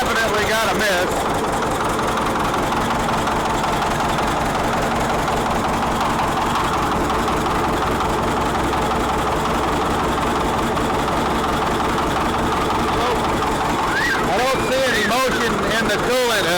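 An old CAT D7E bulldozer idles with a misfire, a loud continuous low diesel rumble that runs nearly the whole time, with brief knocking and clatter near the start and end.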